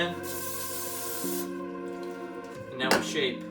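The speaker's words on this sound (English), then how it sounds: "Spray the pan." Cooking spray hisses steadily onto a pan for well over a second, up close, with kitchen music or background sound continuing beneath and a brief clatter near the end.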